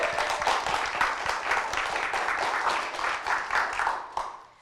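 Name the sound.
audience applause for the judges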